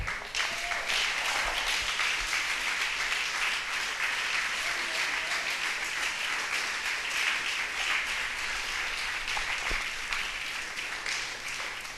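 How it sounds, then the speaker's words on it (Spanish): A church congregation claps steadily and continuously, a dense, loud wash of applause that holds for the whole stretch with no pauses. "Todo el que lo quiera, brinde un aplauso al Señor."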